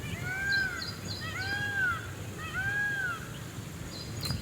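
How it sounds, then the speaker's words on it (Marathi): Peacocks give three loud, drawn-out calls at a steady pace, sounding from a short distance across green village farmland beneath a hill, with only faint background noise between them. "ऐकला असेल मोरांचा आवाज पण येतोय"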